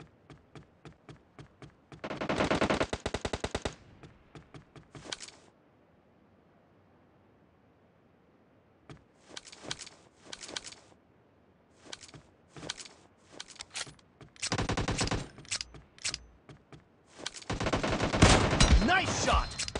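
Gunfire in the mobile battle game PUBG Mobile: repeated rapid automatic bursts and single shots, loud and close, spread in clusters with quiet gaps between them, no speech.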